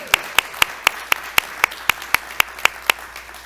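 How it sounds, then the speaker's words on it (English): Rhythmic applause at a storytelling night hosted by Interurban Art House: crisp, regularly spaced claps land about four times a second over a faint background of room noise, with no talking. "Let's give a round of applause for Interurban Art House for hosting this evening"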